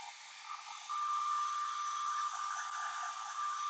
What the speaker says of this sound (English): I'm gonna hit this with a blow dryer and let it speed up the process here